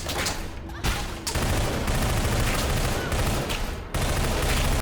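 Loud rapid automatic fire from a submachine gun in the game Entropy Zero, in dense bursts with brief pauses between volleys, close and powerful.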